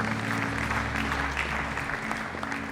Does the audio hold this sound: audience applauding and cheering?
yes